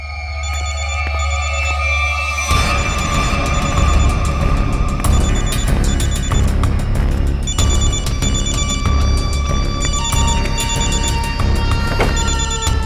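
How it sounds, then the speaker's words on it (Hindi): A telephone rings loudly and steadily, its bright repeating bell pattern going on without a break, with a low hum underneath and no one talking. "घंटी तो बज रही है, फोन का यहीं आसपास है।"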